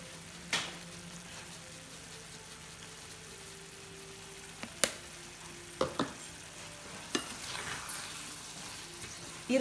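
Pisto vegetables with garlic and oregano frying in a pan: a quiet, steady sizzle with a few scattered clinks and scrapes as the mix is stirred.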